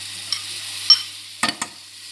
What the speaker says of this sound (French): Elle met les oignons dans la marmite